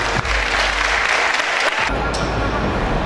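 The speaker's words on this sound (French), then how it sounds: "J'aimerais vraiment qu'on applaudisse bien fort nos 26 candidates aujourd'hui." A pageant audience applauds the 26 Miss Oise 2020 candidates, a loud, dense wash of clapping from a large crowd that thins out toward the end.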